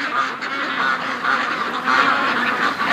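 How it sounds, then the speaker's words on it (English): A flock of ducks quacking and honking continuously, overlapping calls at a steady, fairly loud level with no talking. "That's the sound of happy ducks."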